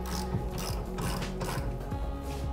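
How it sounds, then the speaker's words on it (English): A jack ratchets steadily to lift the front end of a Honda CBR 500 motorcycle, its repeated clicking pawl strokes loud and close with no talking. "So we're jacking the front of the bike up."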